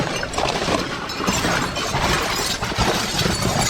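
Broken glass shifts and clinks while debris is sorted in a dumpster, making a dense, continuous jangle of shards and gritty scraping close by, with no voices.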